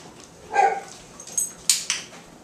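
A dog barks a few times in short, sharp bursts, with a higher yip among them, close by and otherwise quiet.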